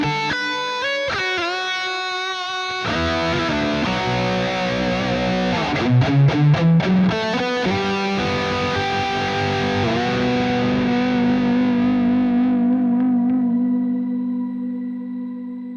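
Distorted electric guitar played through the Archetype Petrucci X plugin with reverb post effects: a few picked notes, a burst of chugged chords, then a sustained chord ringing out into a long, bright reverb tail that slowly fades.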